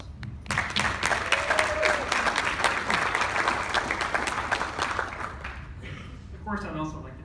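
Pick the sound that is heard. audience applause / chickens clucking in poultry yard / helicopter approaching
audience applause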